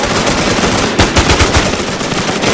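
Rapid gunfire from the online zombie-survival game Infestation, a dense run of loud shots with sharper bursts standing out, close and continuous with no talk over it.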